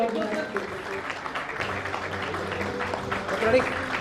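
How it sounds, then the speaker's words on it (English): An audience at an architecture awards ceremony applauds the winners, a steady crackle of clapping that runs the full length with a voice talking over it. "can we have a big round of applause for all the award winners?"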